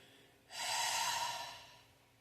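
A slow, steady exhalation during a calm breathing exercise, a soft breathy rush lasting over a second that gradually fades, close and quiet with no talking.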